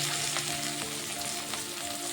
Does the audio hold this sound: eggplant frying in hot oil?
yes